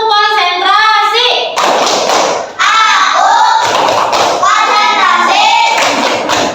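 Loud, rhythmic hand clapping from a group in a school classroom, with chanting voices over it throughout.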